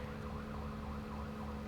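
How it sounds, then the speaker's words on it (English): A faint, distant siren wails in slow rising and falling sweeps over a low steady rumble, heard from out on a ranch. "I hear a siren."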